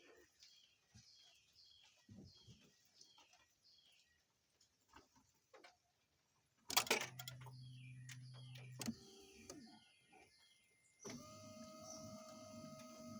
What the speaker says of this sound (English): let's go ahead and turn them windshield wipers on and see what happens